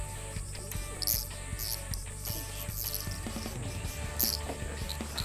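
Cicadas buzzing outdoors during a cicada-catching outing, a steady high shrill drone with pulsing bursts over a low background hum, no talking.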